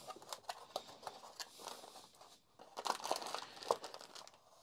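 Crinkling plastic and paper rustling in bursts, close and fairly quiet, with sharper crackles toward the end as a box holding a HEPA filter in a small bag is opened.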